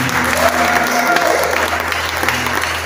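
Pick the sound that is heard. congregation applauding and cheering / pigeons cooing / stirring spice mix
congregation applauding and cheering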